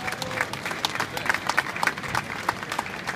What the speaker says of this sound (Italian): salutiamo con un grande applauso di tutta la piazza